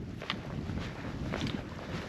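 Gusty wind buffets the microphone outdoors on the Appalachian Trail, a low rumbling rush with a few scuffing sounds, no voices.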